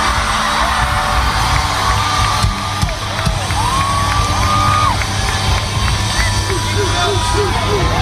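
A live crowd at a Warped Tour 2014 concert cheers, whoops and yells steadily and loudly throughout, with a few louder shouts rising from the mass of voices.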